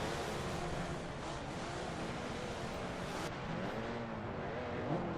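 An SUV races in Forza Motorsport 7, its engine droning and shifting pitch with rising and falling revs, a steady loud roar with a gear change midway and no talk.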